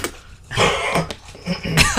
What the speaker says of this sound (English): coughs into it again.